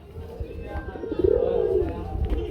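A pair of Spanish pouter pigeons coos close by, one clear, drawn-out, throaty coo rising and falling in the middle amid soft rustling, with a voice faintly in the background.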